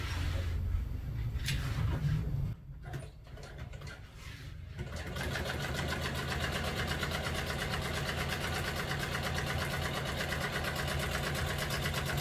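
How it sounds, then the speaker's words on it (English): A sewing machine stitches a tuck and roll pleat for classic car upholstery, running in a steady, continuous mechanical whir at close range after a brief stretch of handling noise. "Let's sew our pleat."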